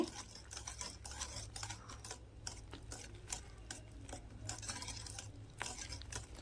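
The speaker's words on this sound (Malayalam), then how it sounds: "ഇനി ഞാനിതൊന്ന് നന്നായിട്ടൊന്ന് മിക്സ് ചെയ്തിട്ട് ഇതിലേക്ക് ഞാൻ ശകലം 1 നുള്ളു ഉപ്പും കൂടി ഇട്ടിട്ടുണ്ട്" Dry cake ingredients for an oven-free vanilla cake are stirred together with a pinch of salt in a bowl, giving faint, continuous scraping and clinking of a utensil against the dish with no voices.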